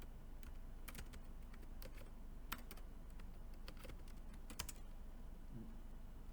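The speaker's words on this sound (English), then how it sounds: "let me type it this way" Fingers type quickly on a computer keyboard, a faint, irregular patter of close key clicks with brief pauses and no talking.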